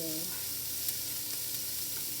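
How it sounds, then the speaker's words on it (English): Steady hot-oil sizzle of onions frying in a pan, a continuous crackling hiss close by with faint clinks, no talking. "You want to hear a nice sizzle."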